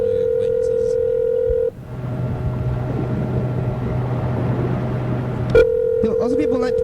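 A steady telephone dial tone cuts off, a low rumbling stretch follows, then a sharp keypress and the tone returns, as someone dials Jordan's phone number; the sequence is loud and close.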